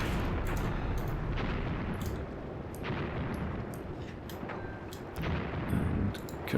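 Continuous artillery fire from a Graviteam Tactics battle, with repeated booms and sharp cracks landing in a dense, steady barrage of rumbling explosions at moderate distance with no speech.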